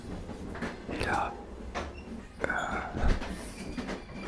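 Ambience inside a train on a trip to Rome, with a low rumble broken by clunks, rattles and bumps from the carriage, fairly close and moderate in level, with faint talk mixed in.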